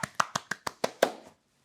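A brief scattering of hand claps welcoming a speaker at a webinar: about seven distinct claps in a short, uneven rhythm, fairly close and moderately loud, then silence.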